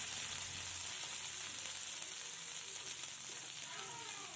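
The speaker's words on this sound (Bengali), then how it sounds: "এবারে মিডিয়াম ফ্লেমে সব কিছুকে হালকা লাল করে ভেজে নিতে হবে।" Potatoes and Malabar spinach stalks fry in oil over a medium flame, giving a steady, close sizzle that holds evenly throughout with faint crackles and no voice.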